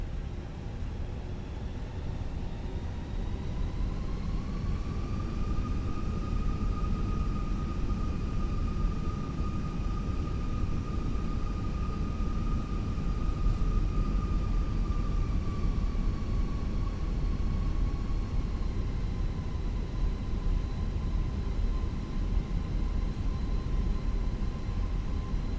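Steady jet engine hum of a Fenix A320 airliner taxiing in Microsoft Flight Simulator 2020, a continuous low rumble with a sustained whine that rises slightly in pitch and holds, no voices present.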